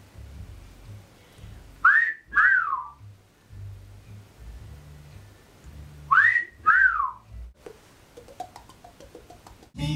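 A person whistles two short rising-and-falling notes, pauses, then repeats the same two-note pattern, clear and close over a low background rumble.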